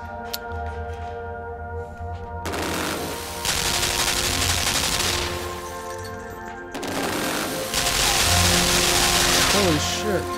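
Rapid machine gun bursts from the Limbo video game, dense crackling fire that comes in two long loud stretches separated by a brief quieter lull, with metallic clanks and a few whistling tones near the end.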